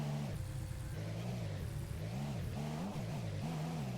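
A modded car engine in Euro Truck Simulator 2, one of several modded cars including a C63 AMG, GTR and Polo GTI, revs in first gear, rising and falling repeatedly in close, loud cycles with no talk.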